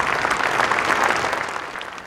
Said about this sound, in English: Let's give God one more standing ovation.